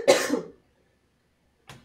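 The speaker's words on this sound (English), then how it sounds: "Where did I get that cough?" A single close, loud cough from a person at an indoor pottery sale, followed by silence and a faint second breathy cough onset at the end.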